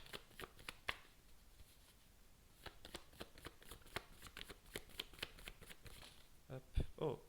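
Tarot cards are shuffled and flipped in a run of crisp, close riffling snaps and slaps, some quick bursts and some isolated, with quiet gaps between them.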